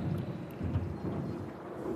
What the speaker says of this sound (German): Und Wetterwechsel können sich zu heftigen Gewittern auswachsen.